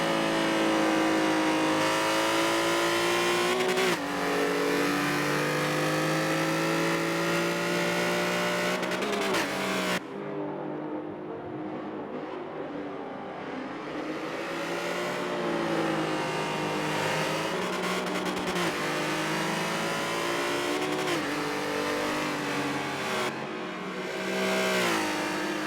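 Race cars lapping Silverstone during a WEC track day in a racing game, engines droning and revving continuously with shifting pitch, loud throughout with no talk.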